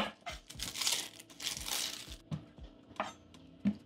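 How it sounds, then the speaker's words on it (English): Papery onion skin being peeled by hand in a home kitchen, heard as close, soft crinkling and tearing with a few light snaps, alone and fairly quiet. "I'm going to peel this onion."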